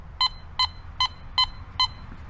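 A Teknetics Delta 4000 metal detector sounds five crisp, evenly spaced high-tone beeps, close and distinct, in a steady rhythm over a faint low rumble.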